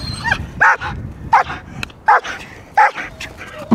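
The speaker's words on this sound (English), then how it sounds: "Now we're gonna see if we can get four barks." Young German Shepherd barking during a guarding exercise, a run of sharp, loud, close barks spaced about a second apart, with faint handler sounds between them.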